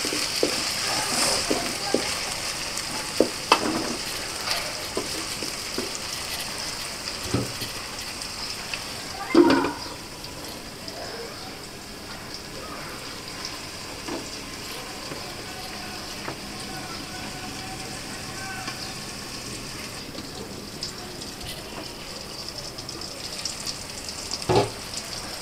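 Shrimp frying in a pan for a Bangladeshi shrimp bharta, giving a soft, steady sizzle with occasional sharper pops and clinks of utensils, fairly close and with no talking.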